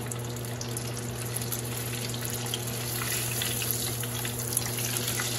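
Chicken pieces dredged in flour frying in very hot oil, a steady dense bubbling hiss with faint crackle throughout, close and continuous with no speech.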